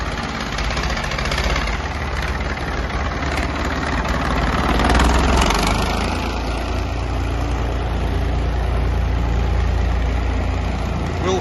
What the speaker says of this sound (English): So, back to the little scraper tractor.